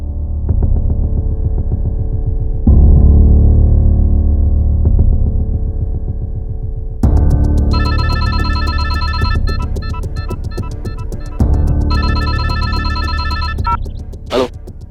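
A telephone rings with repeated electronic trills in bursts, loud and close, over a steady low hum.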